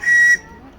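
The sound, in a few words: steam whistle of RC steam tug Resolve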